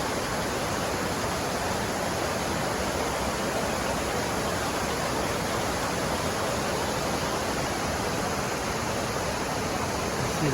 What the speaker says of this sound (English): Now that's a cascade.